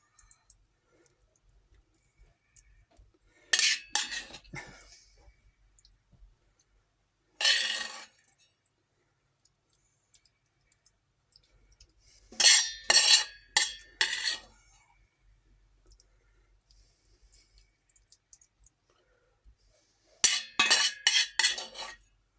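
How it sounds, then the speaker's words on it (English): Lamb shank pie filling is spooned into a dish, giving clusters of metal-on-dish clinks and scrapes in three or four separate bursts with quiet pauses between, close by and with no talking. "Right, we'll just spoon this in."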